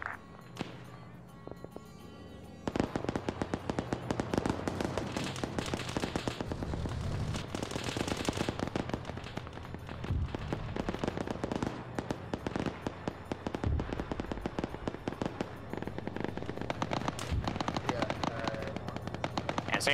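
Rapid automatic gunfire and scattered single shots crackle through an Arma 3 firefight, with bursts overlapping almost continuously, after a quieter opening couple of seconds.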